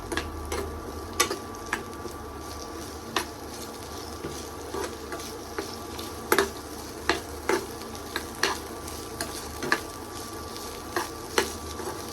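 Vegetables for a North Karnataka challavarekai palya frying in oil in a pan, a steady sizzle close by, broken by repeated sharp scrapes and taps of stirring at irregular intervals, with no talking.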